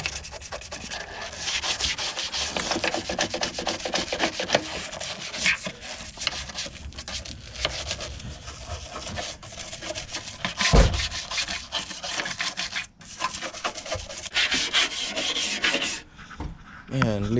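A car engine bay gets scrubbed by hand with continuous brisk rubbing and scouring strokes, close and fairly loud, in a steady back-and-forth rhythm with a brief thump partway through and no talking.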